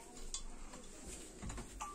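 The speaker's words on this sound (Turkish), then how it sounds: "Bayağı bir hızlı karıştırıyorum." Magic crystal mixture stirred quickly in a container, with soft scraping and clinking taps, a few sharper knocks, and light spoon-against-side sounds.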